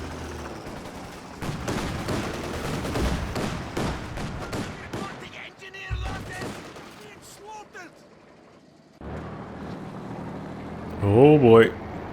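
Tank cannon fire and battle effects from the real-time strategy game Company of Heroes 2 crack in scattered bursts and rumbles, with a commentator's voice talking over much of the action.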